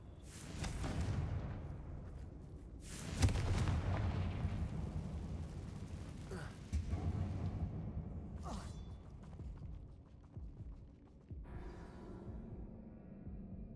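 Confringo fire spell blasting in Hogwarts Legacy inside a closed mine, several loud booming explosive bursts with rumbling decay, spaced apart over the span.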